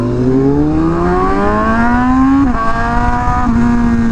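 A Toyota Supra drives past with a loud engine note, climbing steadily in pitch through upshifts and then settling, close and continuous with no talk.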